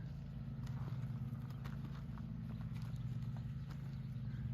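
Horse hooves clip-clopping steadily through a riding lesson, a continuous rhythmic plodding over a constant low engine-like hum, with faint clicks scattered above; no talk.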